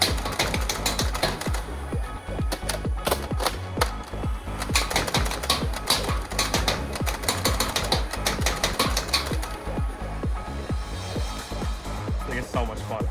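A Dart Zone Thunderbolt blaster fires a full magazine of chili darts as a fast, steady stream of sharp mechanical clacks, close and continuous from start to finish.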